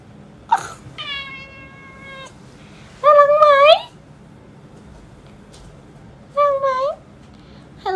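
A cat meows three times, with short pauses between the calls, close and fairly loud with no other sound on top.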